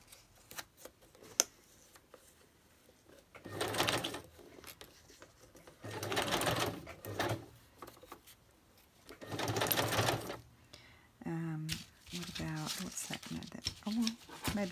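A sewing machine stitches fabric scraps into a ruffle trim, running in several bursts of a few seconds each with quiet gaps between, while someone talks and handles the fabric.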